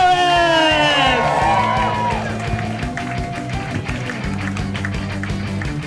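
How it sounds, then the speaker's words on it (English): Comedy club audience applauds and cheers to welcome a comedian to the stage, a burst of clapping and whoops that fades, with a voice speaking over it. "Keep that applause going to welcome stage Miguel Torres!"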